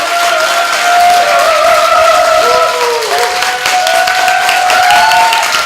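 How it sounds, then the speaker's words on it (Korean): A lecture audience claps loudly and steadily for several seconds, filling the room with constant applause that has a faint tonal whistle running through it. "큰 박수 한번 다시 부탁드려요"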